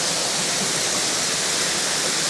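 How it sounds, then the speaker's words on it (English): Erawan Waterfall in a Kanchanaburi national park in Thailand pours as a loud, steady, close rush of broadband water noise, with no voices over it. "But the water's flowing through pretty quickly."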